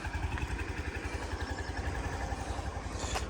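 A Honda Lead JF-45 125cc fuel-injected scooter engine idling quietly, a soft, even low putter with a steady pulsing rhythm, heard close up with no talking.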